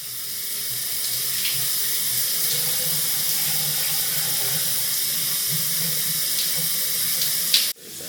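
Steady running water from a tap or shower while conditioner is rinsed out of curly 3b/3c hair, a continuous close hiss and splash lasting throughout before cutting off abruptly near the end.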